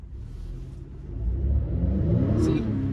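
Acura TLX 2.0T sedan engine building under throttle as the front wheels spin: a low, steady rumble that swells and holds at a louder, rougher pitch, heard up close and continuous.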